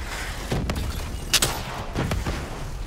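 Sporadic gunshots from the Call of Duty: Black Ops 3 campaign, a few scattered sharp cracks and thumps over a low rumbling game background, with one louder crisp shot standing out.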